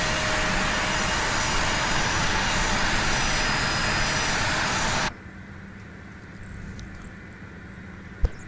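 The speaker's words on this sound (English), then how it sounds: "We have a good engine start." A United CRJ550 airliner's jet engine runs in Microsoft Flight Simulator 2020, a loud, steady roar with a whine. It cuts abruptly to a much quieter cabin hum with a faint high tone and a brief sharp click near the end.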